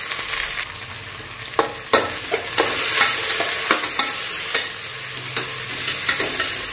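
Sliced onions and green chilies fry in hot oil with a steady sizzle, while a spoon stirs and taps against the pan at irregular intervals.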